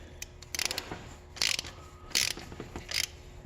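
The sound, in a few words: ratchet turning an oil pressure sensor on a Chevy Impala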